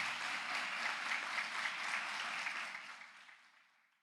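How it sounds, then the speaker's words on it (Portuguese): A church congregation claps steadily for Jesus, a dense wash of hand clapping that holds for about three seconds and then fades away to near silence. "Dê uma salva de palmas para Jesus"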